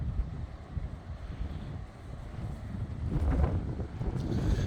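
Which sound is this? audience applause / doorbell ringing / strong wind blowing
strong wind blowing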